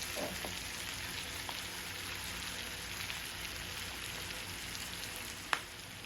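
Beef short ribs browning in a pan for braising, giving a faint, steady sizzle with a soft clink or tap near the end and no voices.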